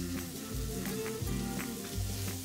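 Yogurt-marinated chicken skewers sizzle on a grill in a soft, continuous crackle with faint low pops, and no voices.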